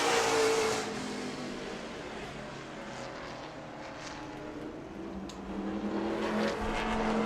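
Race cars roar around the track at a weekly night racing event at New Smyrna, a continuous loud engine drone that swells and fades as the field passes, with no voices.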